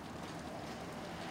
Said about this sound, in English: It started as snow and now it's hail.